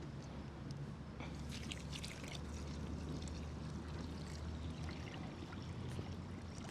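Water poured from a vessel into a cooking pot for boiling hominy, a quiet, continuous splashing trickle lasting several seconds with no talking.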